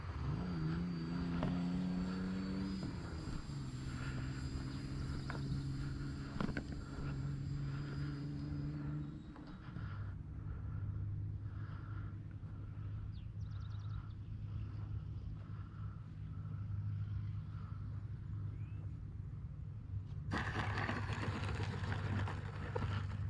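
An E-Flite Viper 70mm RC jet plane flies overhead, its electric ducted fan giving a long steady whine whose pitch drops and shifts as it passes, fading quieter midway before surging louder again near the end.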